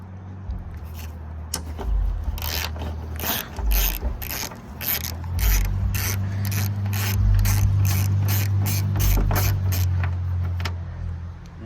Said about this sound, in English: So grab a 10. We'll get in there. So here we'll remove this 10 millimeter.